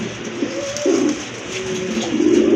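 Pigeons coo in low, repeated throaty calls at a pigeon market, several birds overlapping at close range over a steady background hum, with no talking.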